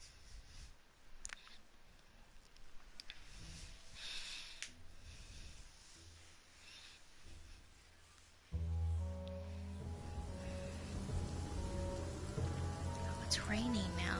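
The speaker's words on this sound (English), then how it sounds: "It's raining now in the game." Rain pours in the video game Stories: The Path of Destinies, a faint steady hiss that swells much louder about halfway through, mixed with other game sounds and no speech.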